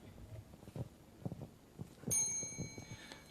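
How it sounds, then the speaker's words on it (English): A small bell rings once at a timed academic talk session, its bright tone ringing out clearly over quiet room rustling and fading over about a second. "once the bell ring, you can start."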